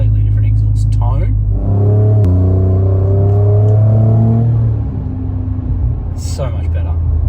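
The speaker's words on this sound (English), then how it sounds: "straight away, completely different exhaust tone" Ford Ranger Raptor V6 twin-turbo with an open catback exhaust revs up loudly nearby, its deep rumbling tone rising through several seconds before easing back to a steady idle, with a brief voice near the start and end.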